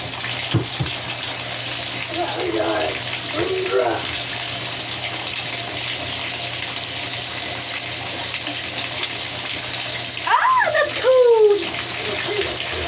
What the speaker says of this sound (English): so now we're going to, like, turn on some hot water